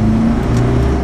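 A Land Cruiser with an 8-speed transmission accelerates from 0 to 60, its engine a loud, close, steady drone that fills the short moment without any speech.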